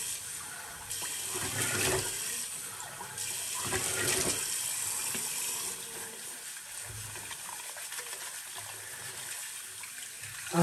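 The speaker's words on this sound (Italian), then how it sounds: "acqua fresca." Fresh tap water running steadily into a sink, a close, continuous gushing rush that swells and eases slightly.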